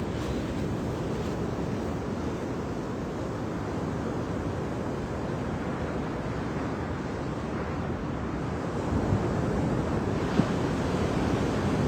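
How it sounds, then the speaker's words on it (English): Ocean waves breaking on a shore at sunrise, a steady continuous wash of surf with some wind rumble on the microphone, loud and close, slightly swelling near the end, with no voices. "We're just going to listen to the sound of the ocean."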